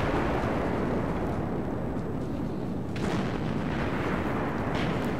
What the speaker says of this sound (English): it looks like the artillery is taking apart our team